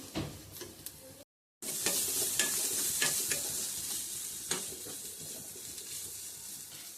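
Curry sizzling and frying in a pan with onion and chili powder, a steady loud hiss throughout with occasional stirring scrapes, briefly cut off by a short silent gap.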